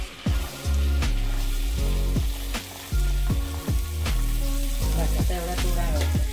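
Three to four large onions frying in oil and butter in a home kitchen, a steady close sizzle throughout, with repeated clinks and scrapes of stirring over the pan.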